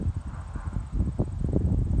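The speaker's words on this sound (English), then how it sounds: "They're retired race horses, so they don't do anything quickly." Retired race horses approach on the ground, their hooves thudding in an irregular, soft clip-clop close by, mixed with wind buffeting the microphone.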